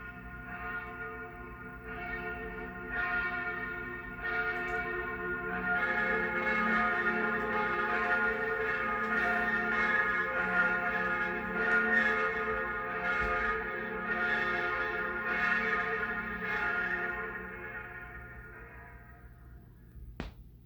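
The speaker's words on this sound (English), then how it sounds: "one of the most beautiful sounds was that of church bells on Sundays and holidays" Church bells ring repeatedly in a steady, overlapping peal with a resonant hum, fading toward the end.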